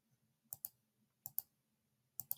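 A computer mouse gives three quick double-clicks, each a pair of crisp, close, faint taps spaced evenly apart over a quiet background, with no speech.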